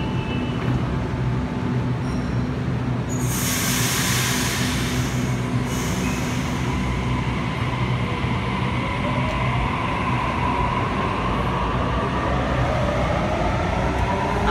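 A Sydney Trains Waratah set passes through Wynyard station, a loud, continuous rumble of wheels and motors filling the underground platform. A brief burst of high-pitched wheel squeal rises in the middle of the pass.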